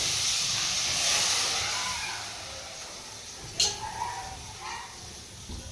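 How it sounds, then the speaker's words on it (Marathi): Water poured into a hot pot of goat trotter soup sets off a loud steaming hiss that slowly fades, followed by a sharp metallic clink and softer clatter. "तर आपण पाणी टाकतोय आता"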